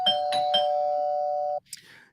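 A doorbell chimes three times in quick succession, the last tone ringing on steadily before cutting off abruptly, followed by a brief faint rustle.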